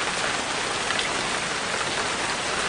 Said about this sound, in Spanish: Lluvia en todos los países.